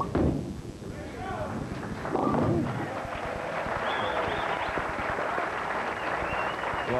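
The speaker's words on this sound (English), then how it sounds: "Applause." Audience at a 1993 professional bowling tournament final breaking into applause, a sustained mid-level patter of clapping following a brief thump, with an announcer's voice under it.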